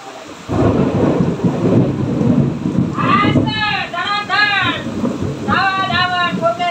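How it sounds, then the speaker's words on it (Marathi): Thunder rumbles deep and long over steady rain, a continuous low roll that fills the whole stretch, while high wavering cries rise and fall in two bursts over it. "गडगडतय गाईस, गडगडतय."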